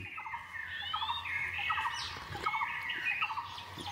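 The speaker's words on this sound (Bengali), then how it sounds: "শুধু পাখির আওয়াজ আর দু একটা গাড়ি যাচ্ছে, সেই গাড়ির আওয়াজ" Several birds squawk and chirp in overlapping calls in a sal forest, fairly close, over a quiet background hum.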